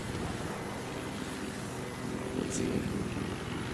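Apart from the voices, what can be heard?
helicopter attacking in video game Battlefield 4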